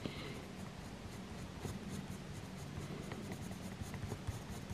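Pastel pencils drawn across paper give a soft, continuous scratchy scraping, steady and close, with no voices.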